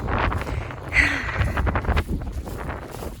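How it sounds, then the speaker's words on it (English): Wind blows across an open farm paddock, rumbling and buffeting the microphone in uneven gusts over a few seconds, with a faint rustle and no speech. "And it's windy, so it makes for great viewing."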